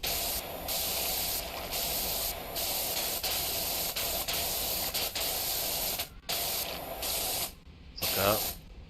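A pressure washer in PowerWash Simulator 2 sprays in a loud, steady hiss that holds for several seconds, pauses briefly, then resumes, with a short spoken bit near the end.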